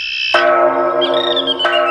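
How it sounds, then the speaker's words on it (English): A temple bell at Wat Tajampi in Sanpatong, Thailand, is struck twice, each stroke ringing out loud and clear with a long, shimmering sustain between hits. "with the bell ringing from Wat Tajampi in Sanpatong, Thailand"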